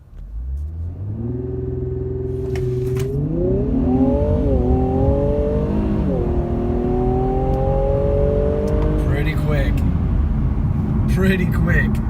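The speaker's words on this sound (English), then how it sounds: "can we take a break here for a minute to do a little 0 to 60" A car accelerates hard from a standstill on cold tyres, its engine revving up through rising tones with clear gear changes, loud and close throughout, with brief bursts of noise near the end.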